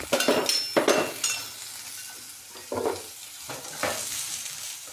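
Omelette ingredients seasoned with salt and red chilli powder fry in a pan under a soft sizzle, broken by repeated clinks and scrapes of a utensil stirring against the metal.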